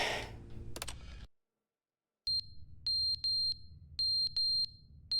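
A fire alarm in The Stanley Parable: Ultra Deluxe sounds in short, high electronic beeps, arriving in irregular pairs and single chirps after a brief burst of other noise and a moment of silence.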